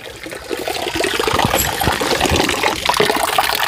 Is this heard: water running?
yes